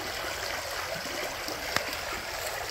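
Creek water in Iva, South Carolina flowing steadily with a soft, even rushing and light trickling, close by and uninterrupted, with a single faint knock partway through.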